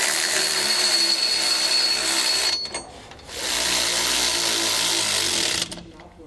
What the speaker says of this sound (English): we'll take our 9/16 socket, and we're going to tighten them down